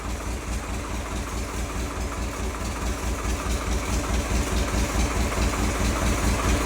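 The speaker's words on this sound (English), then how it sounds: "Let that engine warm up for a minute" An International TD9 crawler's diesel engine idles steadily while warming up, a loud, close, rhythmic low chugging that holds an even pulse throughout with no talk.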